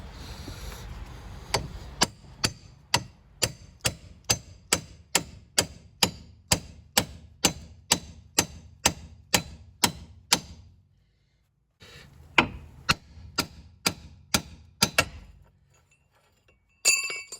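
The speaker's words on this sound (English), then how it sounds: "you bang this with a big hammer, obviously" A big hammer strikes the ball joint on a 2001–2005 Honda Civic in a steady run of sharp, ringing metal bangs, about two per second, pauses briefly, then resumes for several more hits.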